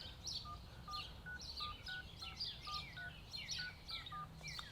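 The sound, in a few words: phone keypad dialing tones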